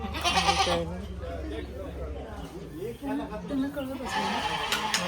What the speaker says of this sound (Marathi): बळीचं बकरी